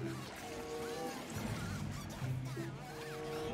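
A giant duck in the horror video game The Outlast Trials honks repeatedly, a series of goose-like calls at moderate distance over low game ambience and rumble.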